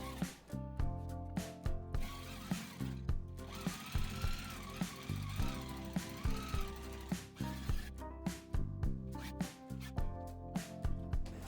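A sewing machine runs in steady rhythmic bursts as it stitches slippery curtain fabric in a three-fold hem about 0.3 cm from the edge. The bursts are close and continuous, with short pauses between runs.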